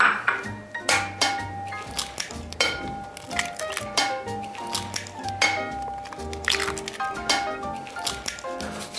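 Eggs being cracked and added to a bowl for a spinach flan: a series of sharp cracks, wet squishes and clinks of shells against the bowl, close and intermittent, with light kitchen clatter and no talking.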